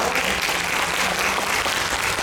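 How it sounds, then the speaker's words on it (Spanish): Dense, steady applause from a conference audience fills the whole short stretch, many hands clapping at an even level without pause. "Un gran aplauso para ellos,"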